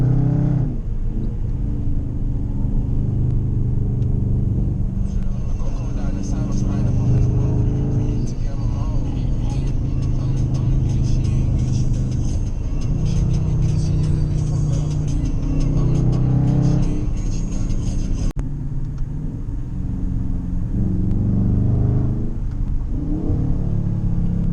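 A loud Dodge Charger's engine roars and revs on backroads, rising and falling in repeated surges with a gear-change break near the end, while people talk over it throughout.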